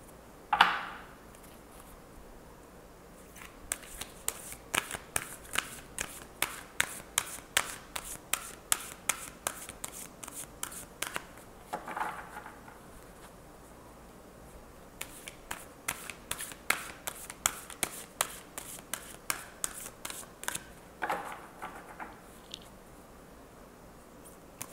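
Tarot cards being shuffled by hand during a reading, close rapid bursts of riffling slaps and flicks in long runs, broken by a pause and an opening knock.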